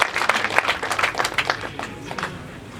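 Applause from a wedding congregation at a church ceremony, a dense steady clapping of many hands that runs throughout, fairly close and lively, with no talk over it.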